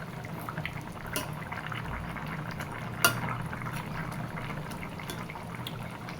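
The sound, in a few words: tilapia and potato curry simmering in pan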